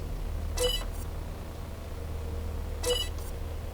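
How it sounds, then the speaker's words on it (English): A pressure plate in the game Empyrion: Galactic Survival gives two short bright electronic beeps about two seconds apart, over a low steady hum. "you'll be able to hear the burr-beep sound"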